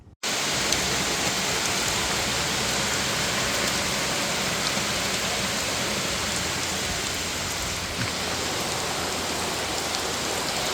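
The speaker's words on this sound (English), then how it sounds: "But then it started downpouring, completely downpouring." Heavy downpour on a golf course, a dense, loud, unbroken hiss of rain hitting the ground that holds steady for the whole stretch, with no voices.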